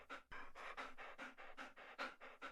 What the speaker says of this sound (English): Terrible, carroty breathing.